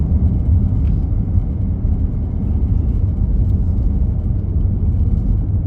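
Steady low engine and road rumble from a 2018 VW Tiguan SE cruising at about 40 mph in fourth gear, heard from inside the cabin as a constant, even drone with no speech.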